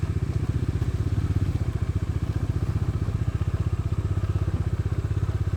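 A motorcycle grinds over big rocks on a rough road during a monsoon ride, its engine a close, steady, low throbbing pulse with faint clatter and no talking.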